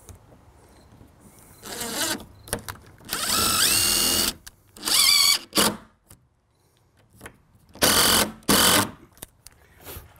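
A power drill drives a screw into shed door hardware in several separate bursts of whirring, each a second or two long, with short pauses between and a few small clicks.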